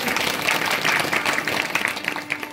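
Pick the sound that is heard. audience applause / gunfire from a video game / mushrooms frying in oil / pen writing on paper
audience applause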